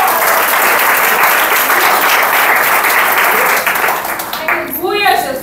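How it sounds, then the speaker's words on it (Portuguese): Loud congregation applause fills a church service for about four seconds, a dense sustained clatter of many hands that thins out near the end as a voice begins speaking. "Aplauso eterno por isso."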